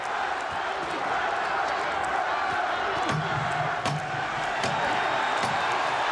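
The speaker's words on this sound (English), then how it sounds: "The crowd on its feet." A boxing arena crowd on its feet at the final bell, a loud, continuous roar of cheering filling the hall throughout, with a commentator talking over it.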